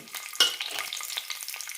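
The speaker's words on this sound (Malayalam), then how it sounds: "എണ്ണ ചൂടാകുമ്പോൾ വെളുത്തുള്ളി അല്ലി ഇടാം." Garlic cloves drop into hot coconut oil and fry, a close, steady crackling sizzle with a sharp burst at the start.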